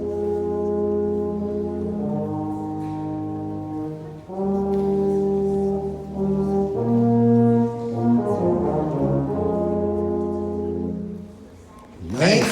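Euphonium and tuba in a live brass demonstration, playing sustained, dark and mellow low notes together. The pair moves through a slow sequence of held chords, loud and close, with no talk over them.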